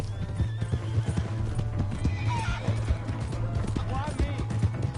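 A horse in the Red Dead Redemption 2 video game clip-clops at a steady gallop and lets out a whinny, with continuous game ambience and occasional voices in the mix.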